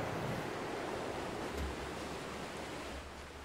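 Ocean waves along the coastline of an island in the video game Dear Esther, a steady, full wash of surf and wind noise that stays constant and fairly loud throughout, with no voices.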